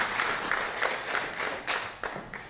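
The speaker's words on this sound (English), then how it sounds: "that's the point where we clap and celebrate the 100 years for Save the Children" Audience applause at a centenary celebration of 100 years of Save the Children, a room full of steady clapping rising and swelling in waves over a couple of seconds.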